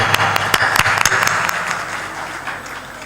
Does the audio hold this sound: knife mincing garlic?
no